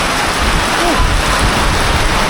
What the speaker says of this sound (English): It is raining, guys. As you can see, the valley's getting pelted down.